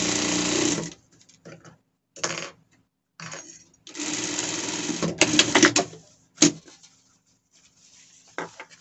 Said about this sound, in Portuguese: E aqui vamos passar uma costura de segurança.